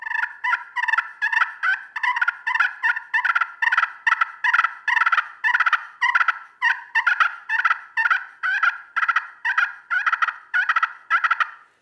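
Rapid, loud turkey yelps from a slate call, repeated in quick rhythmic bursts for the whole stretch, sharp and close, with no speech.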